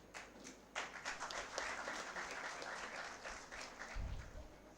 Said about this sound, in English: a heartfelt applause